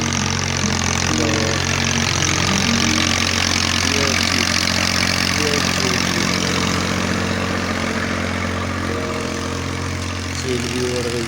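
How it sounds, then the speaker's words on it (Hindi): A tractor engine drones steadily and loudly while plowing a field, a constant low rumble with faint murmuring voices at times. "ये जो हाल ट्रैक्टर की मदद से हम हो रहे हैं"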